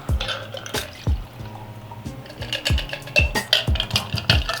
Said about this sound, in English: And then we're just going to strain both of these into